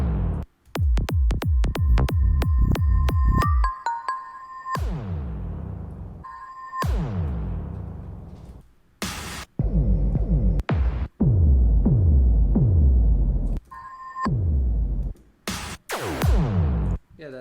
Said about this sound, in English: it's called an impact